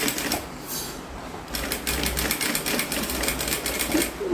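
A sewing machine stitches binding onto a fabric placemat, with a rapid mechanical rattle in short runs and a brief pause, close and clear.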